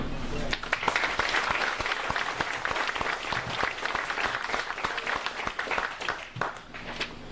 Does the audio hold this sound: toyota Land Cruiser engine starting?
no